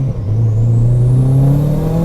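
A Ford Fiesta with a swapped engine drives past close by, a loud sustained engine drone whose pitch climbs steadily as it accelerates over about two seconds, with no talking.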